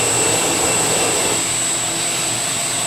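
A Cushion Pack CP316 S2i+ cardboard shredder runs continuously, a loud, close, steady mechanical roar with a high whine on top and no talking.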